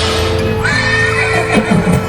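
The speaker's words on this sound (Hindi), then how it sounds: "गाड़ी वाले ने चाबुक चलाई और घोड़ा गाड़ी दौड़ गई।" Horse-drawn carriage with a horse neighing loudly, a rising whinny that breaks into snorting calls, over a steady background hum and faint hoof clatter.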